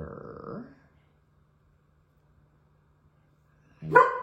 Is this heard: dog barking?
yes